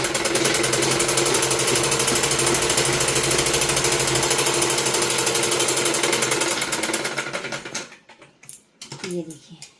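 A sewing machine stitches the sleeve onto a simple suit, running fast and steady with a dense mechanical rattle for about seven seconds, then slowing and stopping amid a few faint handling noises.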